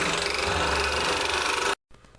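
Bandsaw with an overly aggressive blade cuts the inside of a wooden guitar pick box, giving a loud, dense, buzzing rasp that stops abruptly before a faint hum resumes.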